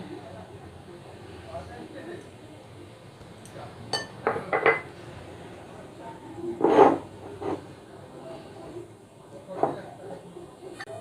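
A spoon scrapes and clinks against a bowl as mango is mixed into batter, with a few sharper knocks and taps among softer stirring, under a person talking.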